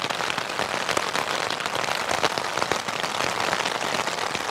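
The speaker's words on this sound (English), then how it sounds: "the good old rain has decided to welcome us into the evening" Steady rain pattering on a tent during an evening of wild camping in the Lake District, a dense, continuous close-up drumming of drops with no pauses and no voices.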